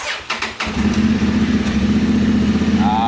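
Honda Transalp 750 motorcycle starting up: a few brief clicks, then the engine catches and settles into a loud, steady, close idle with a rhythmic throb.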